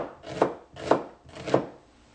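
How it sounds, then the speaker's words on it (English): Three evenly spaced knife chops through an onion on a cutting board, each a crisp thunk, close by with no talking. "we're going to chop up our onion just a little coarsely."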